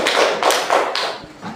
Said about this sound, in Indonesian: Silahkan berikan tepuk tangannya,